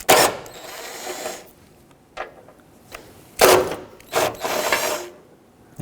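A ratchet with an extension removes 12mm hood hinge bolts on a 1995-2004 Toyota Tacoma, giving several close bursts of metallic clicking and clattering separated by quiet pauses.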